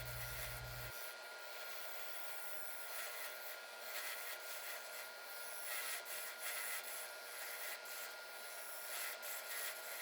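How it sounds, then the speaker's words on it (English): A Robert Sorby diamond parting tool scrapes and cuts a purpleheart tenon on a spinning wood lathe, a steady, faint abrasive hiss with small irregular scratches throughout after a short low hum at the start. "Switching now to the Robert Sorby diamond parting tool to finalize the shape of the tenon."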